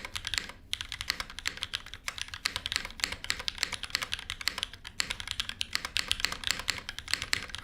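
Rapid, crisp typing on a custom mechanical keyboard fitted with GMK keycaps, a steady close stream of clacky keystrokes with a few heavier thocks mixed in.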